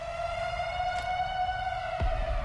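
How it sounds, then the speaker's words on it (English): Air raid siren in the online tactical shooter Black Squad, a steady wailing tone drenched in heavy hall-like reverb, loud and sustained with a couple of faint thumps underneath. "The weirdest air raid siren in the world with the amount of reverb on it."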